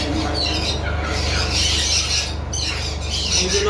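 A cockatiel squawks in harsh, repeated bursts, loud and close, over a constant low hum of background noise.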